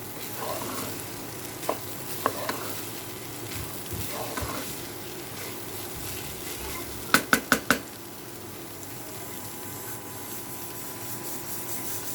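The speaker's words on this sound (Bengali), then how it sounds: "চালটা আমি কিছুক্ষণ ভেজে নিব" Rice frying in a pan for khichuri gives a soft, steady sizzle with scraping stirs, and a quick burst of metallic clinks from a utensil against the pan partway through.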